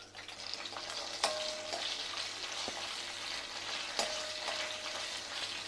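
Green chillies salted and sautéing in hot oil in a pan for a yogurt-based chilli curry: continuous close sizzling and crackling with occasional spoon clinks and stirring scrapes, steady throughout.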